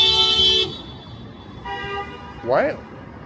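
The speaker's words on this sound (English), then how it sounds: "Now he's honking at pedestrians." Car horn honking at pedestrians on Yonge Street in midtown Toronto: two sustained blasts separated by a gap, then a short vocal-like squeal, amid street noise.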